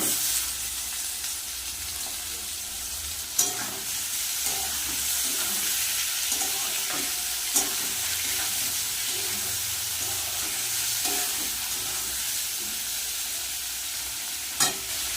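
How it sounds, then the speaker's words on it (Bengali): Onion and shrimp frying together in a pan produce a loud, constant sizzle with repeated stirring scrapes and a few sharp utensil taps, up close and without talking. "পেঁয়াজ আর চিংড়ি মাছ একসাথে ভেজে নেব"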